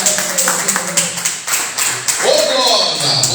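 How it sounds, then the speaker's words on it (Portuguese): Applause from a church congregation during a Lord's Supper service, dense, steady clapping throughout with voices talking over it. "uma salva de palmas."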